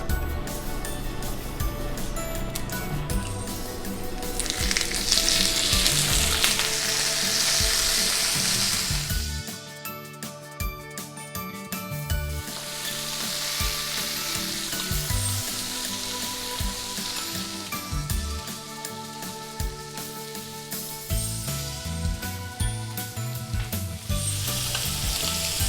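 Lobster and shrimp sizzle on a grill with a steady, close crackling hiss, while background music plays throughout.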